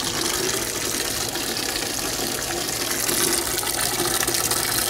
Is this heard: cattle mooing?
no